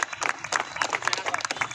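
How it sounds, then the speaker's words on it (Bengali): Applause from a crowd at a cricket prize presentation held by Narendrapur police station with the Baruipur press club: dense clapping mixed with scattered cheering, loud and continuous through the short stretch. "তার জন্য জোরে একটা করতালি হোক।"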